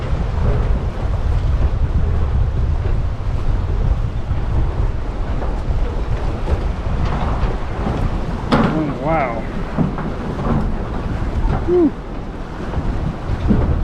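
Strong storm wind from Hurricane Helene roars continuously and loudly against the microphone, with rushing water and a few short exclamations from a person.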